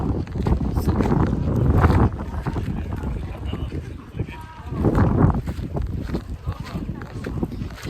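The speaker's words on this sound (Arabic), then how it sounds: "وهنا الهوا جامد مستحيل يا جماعه ننزل البحر" Strong wind at the seaside in Dahab buffets the microphone in loud, rumbling gusts that swell around the start and again midway, a continuous roar with no clear voices.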